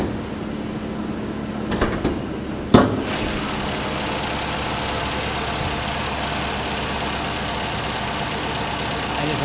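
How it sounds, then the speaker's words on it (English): A used Toyota RAV4's 2.5-liter engine hums steadily throughout with a couple of brief clicks near the start, then an even, smooth idle with no voices. "Engine's running nice and smooth."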